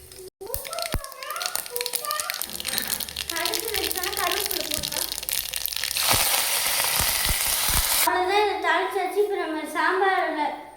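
Mustard seeds spluttering in hot oil for sambar crackle steadily and loudly up close, building in intensity, while a voice and children talk over it.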